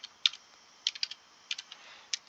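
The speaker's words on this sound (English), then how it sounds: "I'm just going to start typing in the code that I received in my email." Close keyboard typing of a code: quiet, separate clicks of keys struck in short bursts with brief pauses between them, and no one talking.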